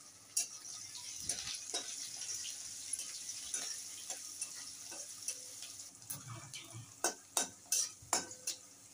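Chopped onion and green chilli frying in oil with five-spice (panch phoron) for a spicy Bengali-style mix, giving a soft, steady sizzle with scattered scraping stir strokes that grow sharper and more frequent toward the end.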